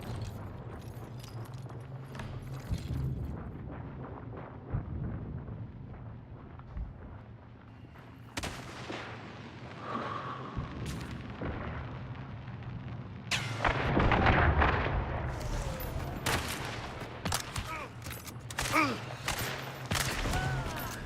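Gunfire and explosions in the game Hunt: Showdown boom and crackle repeatedly at varying distances, with a dense burst of shots in the second half over a steady low rumble of game ambience.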